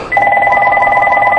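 A telephone rings loudly and close by in one continuous warbling electronic trill of the bell tone, lasting just over a second.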